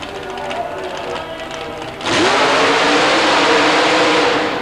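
A nitrous-oxide-injected, fuel-injected Ford engine in a 1930 Ford Coupe mud racer at a super modified mud race in Baltimore bursts into a loud full-throttle roar, going from a lower rumble to a sustained, harsh wide-open blast.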